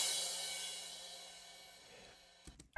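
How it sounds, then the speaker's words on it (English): A crash cymbal from a drum kit rings out alone, a bright broad wash that decays slowly over a couple of seconds before a few light knocks near the end. "a crash cymbal, it's part of a drum kit and it sounds like this."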